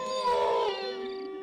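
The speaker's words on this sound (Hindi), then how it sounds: "दूर से किसी कुत्ते की रोने की आवाज आ रही थी" A single mournful dog howl rises and holds for over a second, tonal and wavering against a quiet, eerie night.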